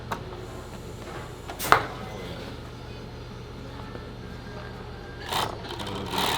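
Union Special sewing machine hemming jeans, a steady low mechanical hum with a rapid stitching rattle underneath, plus a couple of sharp clacks and handling noises, with voices talking faintly at times.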